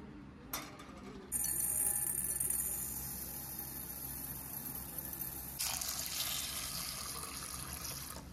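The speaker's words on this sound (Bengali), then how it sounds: "এবার ডালটাকে ভালো করে ধুয়ে নেব, যতক্ষণ না একদম পরিষ্কার জল দেখতে পাচ্ছি" Urad dal is rinsed in a sink under a running tap, water splashing and pouring steadily with a couple of louder gushes and faint clinks, close and alone.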